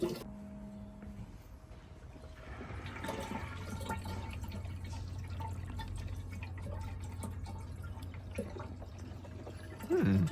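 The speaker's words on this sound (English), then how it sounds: "Now I just have to keep filling up my tank with water." Coolant poured into a car's tank, a steady low gurgling trickle of liquid filling up with faint drips, running continuously at close range and rising briefly at the end.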